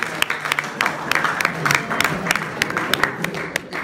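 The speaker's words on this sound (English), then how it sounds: "All right, can we clap for them, please?" An audience at a peace concert event claps together in a dense, sustained round of applause with no one talking over it.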